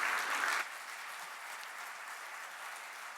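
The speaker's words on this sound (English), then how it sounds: "A round of applause," Audience applause closing a talk at the EPIC 2019 conference: a brief louder burst of clapping that quickly settles into steady, softer, sustained applause filling the room, with no voices.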